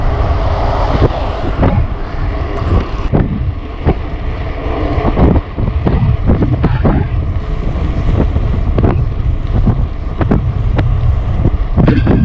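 Strong headwind buffeting the microphone on a motorbike ride along a road, a loud continuous roar and rumble with gusty bursts throughout and no other clear sounds.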